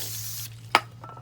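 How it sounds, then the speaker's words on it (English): A short hiss of spray aimed at a brake rotor on a 2014 GMC Sierra / Chevrolet 1500 pickup, one close, sharp burst over a quiet background hum. "just spray enough on there to cover everything"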